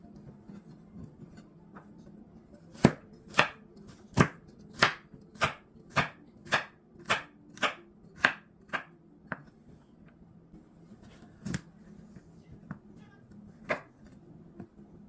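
Carrots being cut into cubes with a knife on a board make a run of about a dozen crisp, evenly spaced chops, then a few scattered, slower cuts in an otherwise quiet room.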